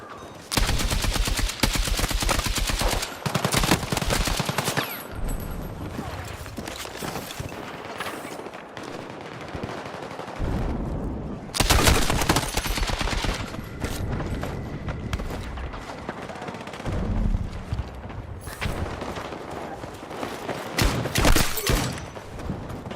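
Rapid automatic gunfire crackles through a Halo esports match, loud bursts coming in long sustained volleys with brief pauses between them.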